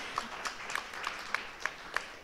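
Sparse, scattered hand claps from a small audience after a presentation at a conference on secularism, a handful of faint, distinct claps spaced irregularly rather than full applause.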